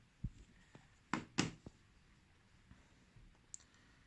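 A Xiaomi Mi Dual Mode silent wireless mouse gives a few soft, muted clicks close up, a pair of slightly louder clicks in the middle, in an otherwise quiet setting.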